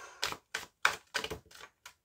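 A deck of fairy tarot cards is cut and tapped on a table, giving about six short, distinct, close knocks and clicks in an uneven rhythm with silence between them.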